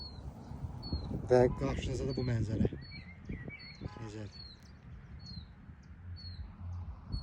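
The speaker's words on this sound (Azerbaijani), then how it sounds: "Gəlin sizə bir də göstəreyim. Quşlar necə oxuyur." Birds chirping repeatedly at a steady pace in the distance over mountain forest land beside the Shahdag road in Qusar, Azerbaijan, while someone talks nearby over them.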